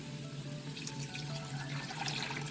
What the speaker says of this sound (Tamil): எடுத்து வச்சு இந்த ஸ்டாக்கை வந்து இதில் ஆட் பண்ணிக்கோங்க.